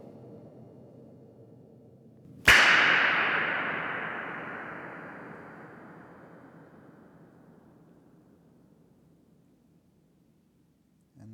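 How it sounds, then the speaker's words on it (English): A single pop gun shot fired inside a reverberation chamber, a sharp crack followed by a long, slowly fading wash of reverberation lasting many seconds before dying away to near silence. "I'll just let off the pop gun once again."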